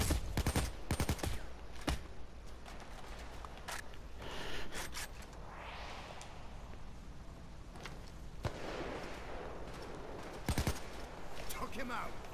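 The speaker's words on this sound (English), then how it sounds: "Just firing off now." Gunfire in the video game PAYDAY 2 comes as rapid bursts of shots, loud and close, over a constant layer of game noise, with faint voices now and then.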